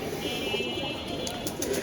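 Domestic pigeons cooing in a home loft, a soft low throaty coo heard briefly at moderate distance amid faint background noise.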